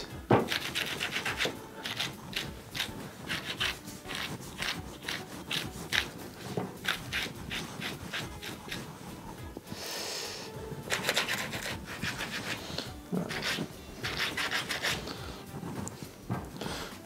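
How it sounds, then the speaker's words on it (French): A crepe rubber brush scrubs the glazed spots of suede shoes in quick, dry back-and-forth strokes, close and fairly quiet, with short pauses between bursts. "ces parties-là avec la brosse crêpe. Et seulement aux endroits où le daim a pu se lustrer"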